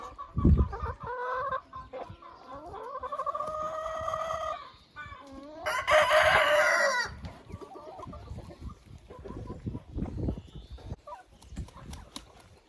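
Hens cluck inside a chicken coop while a rooster gives drawn-out crows. Bursts of clucking come before and after the loud, close crowing.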